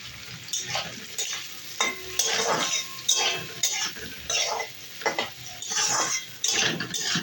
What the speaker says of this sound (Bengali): তারপরে এরই মধ্যে দিয়ে দেব এই পেঁয়াজ কুচি আর ক্যাপসিকাম কুচি